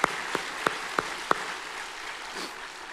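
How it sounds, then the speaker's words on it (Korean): A church congregation at an Easter dawn prayer service claps to God in a handful of sharp, evenly spaced claps. The claps come close and distinct, then fade into quiet room noise. "우리 하나님께 영광의 박수를 드리겠습니다. 더 크게요."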